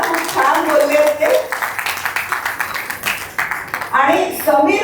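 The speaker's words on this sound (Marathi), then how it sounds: "जोरदार टाळ्या त्यांच्यासाठी होऊन जाऊ दे." Rhythmic clapping from a family gathering at an 80th birthday celebration, cheering the grandchildren's performance, comes in quick regular beats while voices talk and call out over it.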